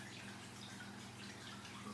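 Lemon water, one part lemon juice to two parts water, pours over cucumbers in a jar for lightly salted pickles, a quiet continuous watery splashing and gurgle with faint dripping, close and soft, with no talking.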